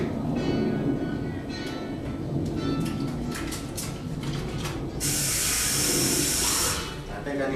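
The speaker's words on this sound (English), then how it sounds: "I'm going to wash some of these bananas off my hands." Water from a kitchen tap runs steadily while hands are rinsed clean of banana, a loud close splashing rush that swells briefly partway through, with a person talking over it.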